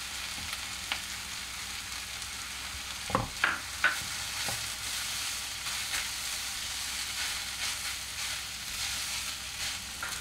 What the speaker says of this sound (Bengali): আমি এবার পনিরের টুকরোগুলো দিয়ে দেবো।